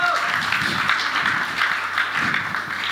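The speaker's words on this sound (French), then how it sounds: "si tu veux, on peut l'applaudir" Audience applause at a French media workshop, a steady broadband patter of clapping from a crowd that fills the whole stretch at moderate loudness, with faint voices mixed in underneath.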